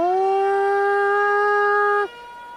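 A human voice imitates a siren or klaxon, holding one loud, steady wailing tone for about two seconds before cutting off sharply.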